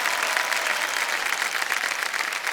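The studio audience of Kaun Banega Crorepati Season 13 breaks into applause, a dense, even round of clapping that carries on steadily with no break.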